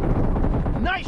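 Rapid gunfire in the mobile battle royale game PUBG Mobile rattles in a dense, loud burst of shots lasting about a second, ending as a voice begins.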